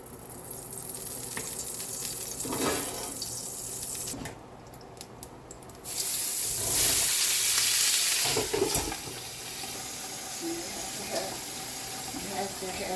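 Cauliflower fries in hot oil with a loud, close sizzle and hiss that swells and fades as a cover is handled. A voice talks intermittently over it.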